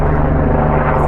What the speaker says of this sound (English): I think they're searching for somebody. Helicopters, am I right?